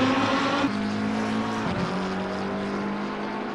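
Lamborghini Super Trofeo race cars roar through a corner at Watkins Glen in a racing video game, with a loud steady engine drone and a clear gear shift partway through, close and constant, no talk.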